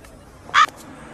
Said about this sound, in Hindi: दरअसल हम जब भी हिचकी ले रहे हैं, अच्छा, कौवे का आवाज आ रहा है भाई।